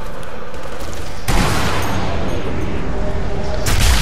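Sniper rifle gunfire in the video game Sniper Elite V2, a loud boom breaking into a dense, sustained rumble of battle noise that swells again at the end, with no talk.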